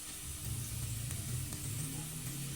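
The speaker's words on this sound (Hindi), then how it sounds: "अब इसके अंदर हमने साग डालना है।" Mustard greens for sarson ka saag, cooked village style, go into a hot pan and give a faint, steady sizzle and hiss for a couple of seconds.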